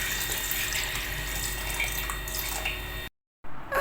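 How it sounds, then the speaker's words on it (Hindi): Tap water poured steadily into a cooking pan for aloo bukhara (plum) chutney, a continuous splashing stream for about three seconds, then a brief cut and a short resumption. "अंदर पानी थोड़ा कम है तो हम 2 गिलास और ऐड कर देते हैं।"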